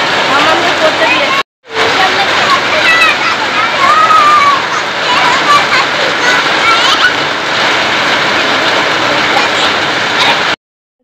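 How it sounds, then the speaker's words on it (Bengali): Heavy rain pours down outdoors in a loud, unbroken roar of dense hissing patter that stays even from start to finish. "এত জোরে ঝমঝমিয়ে বৃষ্টি পড়ছে"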